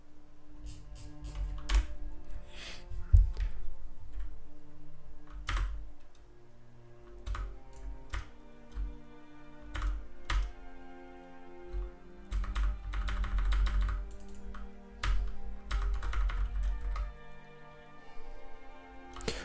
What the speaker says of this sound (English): Oh, I'm pressing the F keys.